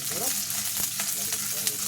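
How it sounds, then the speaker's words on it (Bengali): Chopped onions sizzle steadily in hot oil in a home kitchen, a dense, continuous crackling hiss close to the pan with a few faint clicks of stirring over less than two seconds. "চলো তাহলে পেঁয়াজ ভাজা হোক।"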